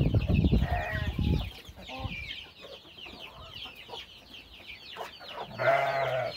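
Chickens cluck and chicks peep in high, rapid chirps, with a hen's louder clucks near the start and end, close by outdoors.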